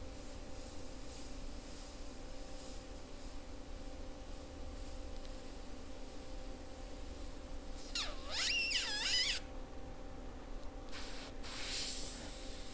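Airbrush spraying paint onto a stencil for a colour portrait of a woman's face, a steady soft hiss running throughout with a brief louder burst partway through.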